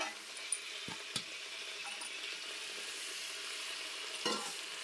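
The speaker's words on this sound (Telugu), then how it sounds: "ఇప్పుడు మెల్లగా కలబెట్టుకుందామండి" Pomfret fish curry sizzles quietly in a pan as a spoon stirs it, with a low constant hiss broken by a few light scrapes and clinks.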